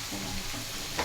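Potatoes sizzle in a hot pan for a Bengali potato and dried-fish chutney, a steady close frying hiss with light stirring scrapes and a brief sharper flare near the end.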